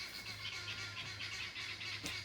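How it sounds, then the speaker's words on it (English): Birds chirping and tweeting in short repeated bursts at an abandoned lake house, moderately distant, over a steady low background hum; no talking. "we've upset the birds"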